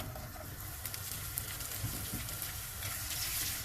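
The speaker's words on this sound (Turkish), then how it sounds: "hafif kavuralım." Sausages sizzle and fry in olive oil in a pan, a steady dense crackle with soft pops running throughout, close and fairly loud with no voices over it.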